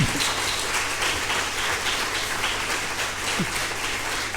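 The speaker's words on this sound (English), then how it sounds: "now you can do a thumping applause for this guys" A research conference audience gives steady, moderately loud applause that continues evenly for the whole stretch, with no speech over it.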